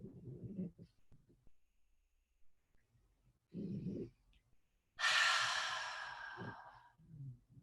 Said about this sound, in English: The dog snoring is reaching a high level.